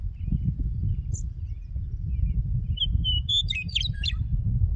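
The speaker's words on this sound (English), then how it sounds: "Who's the pretty bird making that noise?" A bird gives a few thin high chirps, then a quick burst of squawky, warbling calls over a steady low rumble of background noise.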